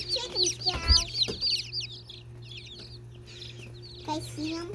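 Several chickens cluck and squawk close by in short, repeated bursts, with a voice heard among them and a steady low hum underneath.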